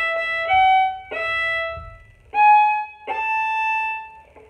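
A fiddle plays the shave and a haircut tag at the end of a Cripple Creek tune: a short rhythmic series of bowed notes, close and clear, with a bright sustained final note.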